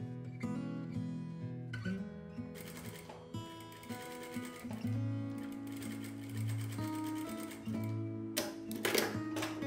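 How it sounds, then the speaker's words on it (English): A sewing machine with a 2-in-1 gathers/pleats presser foot stitching fabric, its steady mechanical hum and rapid needle clatter running continuously with brief pauses and speed changes, heard close and alone. "Let me sew and show."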